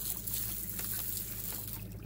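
A hose sprays water over a mud-caked anchor chain, a steady hissing wash with faint trickling and splashing against the links, quiet and continuous throughout.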